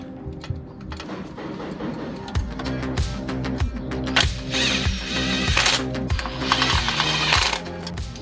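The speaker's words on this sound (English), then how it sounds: "I am also going around and torquing them back up as well" Ratchet clicking in quick bursts while sump bolts are tightened and torqued on a VW Polo 1.2 TSI engine, close and fairly loud, with metallic mechanical rattles between strokes.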